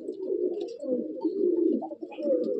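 Madrasi pigeon, a white male, cooing continuously in a loft at Sodhpur, with a low, steady rolling coo running throughout and faint higher chirps from other birds at the edges.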